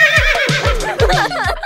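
A horse whinnies in a loud, close, descending call, followed by a few shorter whinny bursts over the rest of the sound.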